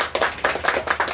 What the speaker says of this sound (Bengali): একবার জোরে হাততালি সবার জন্য